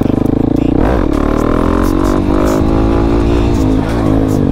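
A supermoto motorcycle's engine revs hard and loud during a wheelie on a short track, its pitch climbing steadily and holding high with a slight dip near the end, close to the rider with no speech over it.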